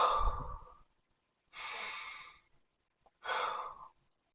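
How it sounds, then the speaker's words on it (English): Three slow, deep breaths in close succession, each a soft airy rush lasting about a second with short pauses between, the first starting with a low breathy exhale. "So do a deep breath with me."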